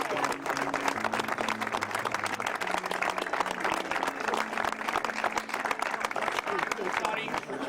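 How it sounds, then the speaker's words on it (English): Audience at a college lacrosse senior gathering applauding the senior class, sustained crisp clapping close by with crowd voices murmuring and talking underneath. "just give the whole class one more round of applause together"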